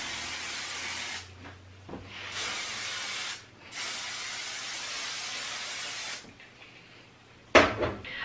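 Several sustained hissing bursts from an aerosol hairspray can sprayed onto loosely curled hair, each lasting a second or two, with a short click near the end.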